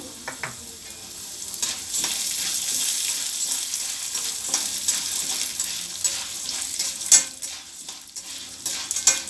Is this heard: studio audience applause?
no